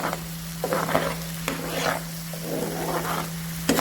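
Prawns fry in a pan with spice masala and ghee, sizzling loudly while a utensil scrapes and stirs in repeated strokes, close and without talk.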